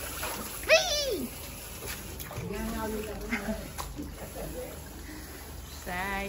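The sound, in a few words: shower water splashing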